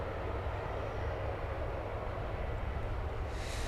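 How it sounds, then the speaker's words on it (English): A plane taxiing at DFW Airport before takeoff makes a faint, steady engine rumble with a continuous low drone and a slight hiss rising near the end, with no talking. "There is a plane getting ready to take off"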